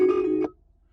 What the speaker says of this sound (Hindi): जैसे कि आप रिंगटोन सुन सकते हैं।